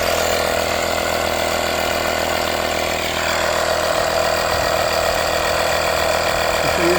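A Hyper Tough portable tire inflator runs steadily throughout, plugged into a vehicle socket and pumping up small tires, its continuous motor drone close and fairly loud with a slight change in tone partway through.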